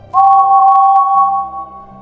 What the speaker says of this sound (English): Over the wind, his own whistle echoed and warbled oddly